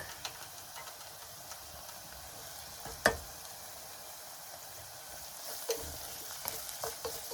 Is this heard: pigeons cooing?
no